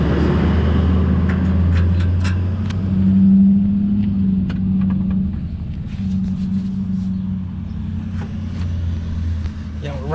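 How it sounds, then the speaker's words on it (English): Heavy vehicle engines rumble past close outside a repair area near a school, a steady low drone that swells around the middle, with some tapping and faint voices in the background. "all these buses keep driving past"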